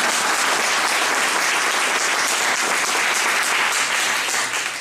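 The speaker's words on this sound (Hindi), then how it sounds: "कुछ तो तालियां बजाओ यार।" A crowd at an NSS ceremony at a college in Gaya breaks into dense, continuous applause, a loud, even wash of many hands clapping together for several seconds without a break.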